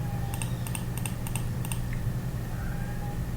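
Computer keyboard keys tapped in a few quick clustered presses, a save shortcut being struck, crisp close clicks over a steady room hum with no talking.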